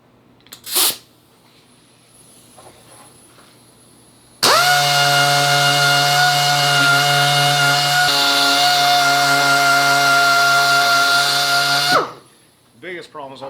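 A cheap 2-inch Sci-Fang DA sander grinds rust from a Jeep TJ rocker panel, a loud, steady high-pitched whirring that starts suddenly and runs for several seconds before spinning down, with faint sounds around it.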